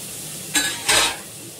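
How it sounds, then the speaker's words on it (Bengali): Two short scraping stirs sound in a pot of chutney on an induction cooktop, each a brief burst against a quiet, faintly hissing background. "চাটনিতে নুনও দিয়ে দিলাম এবার নাড়াচাড়া করবো একটু জল দিয়ে দেবো"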